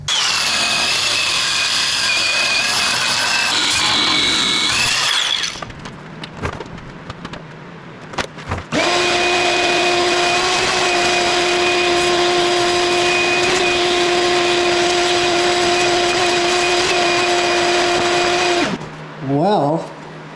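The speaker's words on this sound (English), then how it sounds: "the quickest way to do this is to go through it with wire wheel and then come back through with the sander" An angle grinder fitted with a wire wheel strips a barn wood board in a workshop, a loud, steady whine that cuts out briefly near the middle, then resumes at a constant pitch for about ten seconds before stopping.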